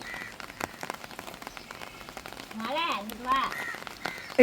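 Rain falls steadily outdoors, a close pattering wash that continues throughout, while a person talks over it in the second half.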